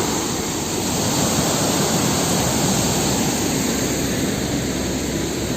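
A waterfall in Chhattisgarh, India, pours as a steady, loud, broadband rush of falling water that fills the scene evenly throughout, with no voices.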